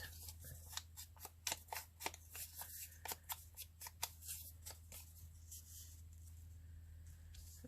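A paper book page torn by hand in a rounded curve, a close series of quick, crisp rips and crinkles lasting a few seconds before fading to a quiet hum.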